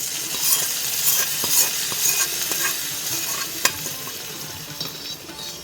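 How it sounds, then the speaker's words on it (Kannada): A tempering is stirred into a tender jackfruit curry, sending up a close, crackling sizzle broken by repeated spoon scrapes and light clinks against the pot, with no voices heard. "ಅದಕ್ಕೀಗ ಒಗ್ಗರಣೆಯನ್ನು ಹಾಕ್ತಾ ಇದ್ದೇನೆ"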